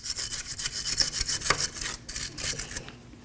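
A wire brush scrubs the front strut of a 2013-2019 Nissan Sentra in fast, rasping back-and-forth strokes, close and fairly loud, with no talking.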